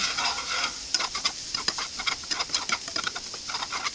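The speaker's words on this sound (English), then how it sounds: "It's basically making like a roux, essentially" A flour roux being stirred in a greasy pan, with a steady soft sizzle and repeated scraping strokes of a utensil close by.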